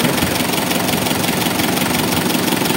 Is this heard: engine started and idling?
yes